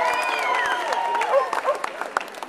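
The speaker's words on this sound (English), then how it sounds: "Give him a round of applause." A festival audience applauds a speaker as he is welcomed to the stage: dense clapping mixed with cheers and whistles, fairly close and lively from start to finish.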